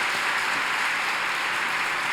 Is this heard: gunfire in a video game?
no